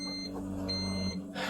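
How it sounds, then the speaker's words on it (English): A printer signalling that it needs ink with repeated high electronic beeps, heard as steady tones that stop briefly and then resume, over a constant low mechanical hum. "Now the printer is beeping because it wants ink, and it won't shut up until I put ink in the book"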